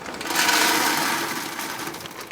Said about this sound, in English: So we're gonna mix those up into the hopper.